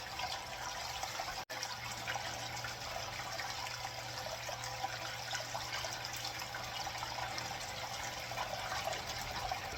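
Water runs steadily through a gold sluice set up at home, a constant, fairly quiet rushing wash with a low hum underneath and only a momentary dropout.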